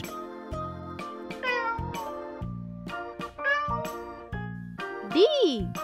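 A cartoon cat in a children's animal alphabet lesson meows several times in quick succession, with rising and falling cries over a light musical backing.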